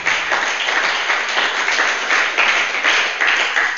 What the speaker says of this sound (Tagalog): Isang muling palakpak ang bigay natin sa Diyos.